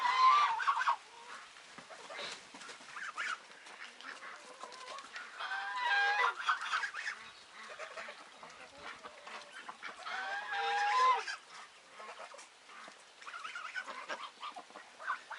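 Geese at a backyard pool honking in short, harsh bursts, several loud calls scattered over the span with quieter splashing gaps between, close by.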